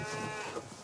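Cows on a farm low and moo, close by and fairly loud, the calls dense and overlapping through a brief stretch with no talk.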